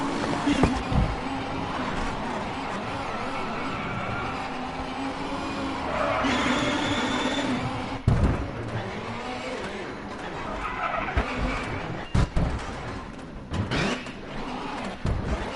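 A WRC rally car spinning out, heard from the onboard camera: engine roar with tyre scrabble and skidding, a few sharp knocks and bursts, loud and close throughout, with a voice talking over part of it.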